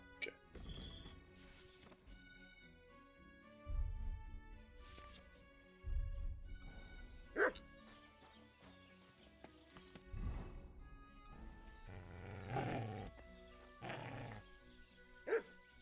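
Dog barking and growling in the video game Kingdom Come Deliverance 2, several short barks spread through the clip over game music and ambient sound, fairly close.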